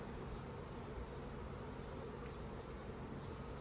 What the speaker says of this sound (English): Brushing all the bees off.